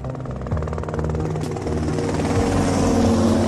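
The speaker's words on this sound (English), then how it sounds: "Coming in on a Maverick helicopter" A Maverick helicopter flies in within the Vice City game world, its steady rotor thump and engine drone building and holding loud and close throughout.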